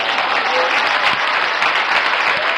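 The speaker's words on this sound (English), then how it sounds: "Clap your hands, somebody." A church congregation applauds, dense steady clapping that fills the room loudly for a few seconds, with no talking over it.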